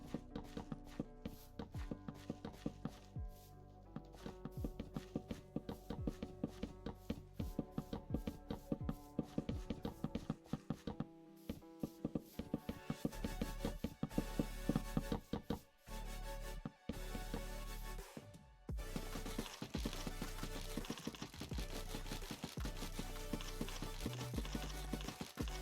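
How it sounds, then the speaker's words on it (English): Mangrove logs being stripped in Minecraft Bedrock Edition produce rapid, repetitive wooden chopping thuds in a steady rhythm, joined partway through by background music, with no talk. "Told you guys I'd be spending the next hour stripping logs."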